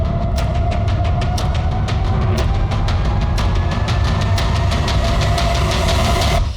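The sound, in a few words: tempo van engine running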